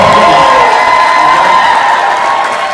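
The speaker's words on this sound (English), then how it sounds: "Let's give him a big round of applause." A live audience at a seminar-style event cheers and applauds loudly, a dense, sustained roar of whoops and clapping that stays strong throughout with only a slight dip near the end.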